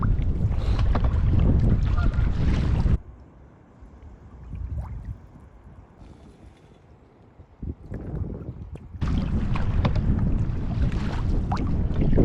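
Loud, roaring wind buffets the microphone in heavy gusts on Loch Awe, Scotland, heard from a canoe in a headwind, dropping briefly to quieter water and rustling before surging again.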